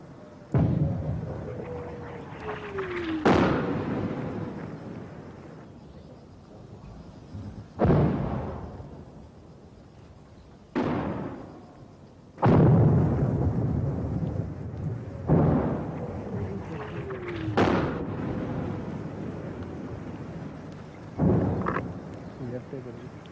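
Artillery fire and shell explosions in a wartime setting, a series of about seven sharp, loud booms at irregular intervals, each followed by a rumbling decay, with no other sounds in between.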